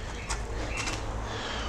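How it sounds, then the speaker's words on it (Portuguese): A bird gives two short cooing calls, moderately near, over low outdoor background noise and no talk. "Ô Zé Roberto, o pássaro revoltado."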